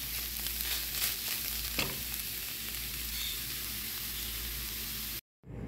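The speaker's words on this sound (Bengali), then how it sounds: "এখন ঝিঙে বাটাটা আমার ভাজা হয়ে গেছে" Ridge gourd paste (jhinge bata) sizzles steadily in a frying pan, a continuous close hiss and crackle that holds at a constant loudness before cutting off abruptly near the end.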